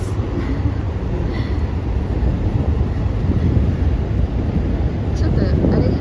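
A train passes on a rainy Tokyo night street, giving a loud, steady rolling rumble with a faint airy hiss that holds for about six seconds.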